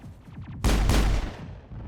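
A loud, close gunshot burst from the video game Mass Effect booms out, followed by a decaying rumble, with fainter rapid shots before it.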